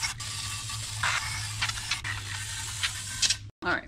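Aerosol cleaner hisses in a steady, close spray around the gasket seat of a 2011 Chevrolet Malibu valve cover, with a low hum underneath and a brief cut-off near the end.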